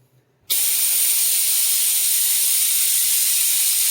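An oil extraction pump switches on abruptly and sucks oil from a 2017 Volkswagen Golf Alltrack engine, a loud, steady, unbroken hiss that holds at the same level until the end.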